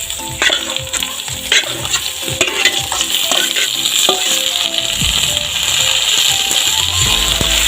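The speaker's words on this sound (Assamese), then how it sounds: "পিয়াজখিনি অলপ ৰঙচুৱা হোৱাৰ পিছত এতিয়া মই মাংসখিনি বহাই দিম কেৰাহীত" One kilogram of duck meat goes into a wok with browned onions and fries in a loud, steady sizzle, while a metal spatula scrapes and clinks repeatedly as it is stirred.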